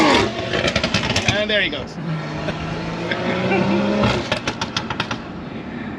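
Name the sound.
loud vehicle exhaust as car drives off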